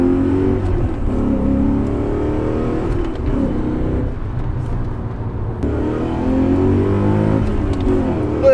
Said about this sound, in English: Listen to that high revving V8.